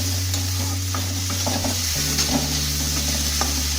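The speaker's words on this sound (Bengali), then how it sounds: "নারকেলটা আমি খুব ভালো করে ভেজে নেব" Grated coconut frying in a pan for a Bengali banana flower curry, with steady sizzling and occasional stirring scrapes over a low hum, close and continuous with no talk.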